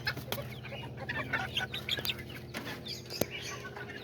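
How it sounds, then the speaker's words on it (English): Kikiriki and Azteca chickens and small roosters clucking together in a flock, overlapping soft clucks and chirpy calls with a few sharper squawks at close range. "These are all the little roosters right there."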